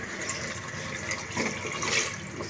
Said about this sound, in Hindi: इससे 2 लोटा पानी ले रहा हूँ मैं